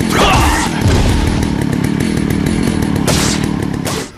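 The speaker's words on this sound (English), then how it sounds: "we still jump every time we hear a chainsaw revving up" A chainsaw revs loudly and aggressively up close in the Resident Evil 4 video game, a harsh, continuous snarling roar that swells and then cuts off at the end.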